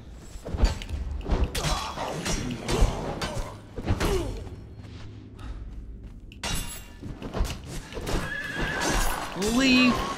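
A horse in the video game Conan Exiles neighs and whinnies repeatedly amid clip-clopping hooves, thuds and combat clashes, with someone talking over the action.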